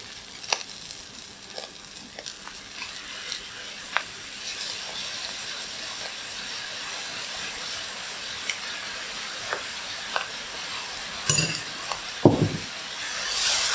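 Pad Thai noodles with shrimp, chili and Pad Thai sauce are stirred in a hot wok: a continuous soft sizzle and hiss broken by scattered utensil scrapes and clicks, with a louder scraping burst near the end.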